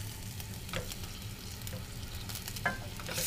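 Chicken pieces sizzling in a pan just after being flipped raw side down, a soft steady fry with a few faint stirring and utensil sounds, no talking.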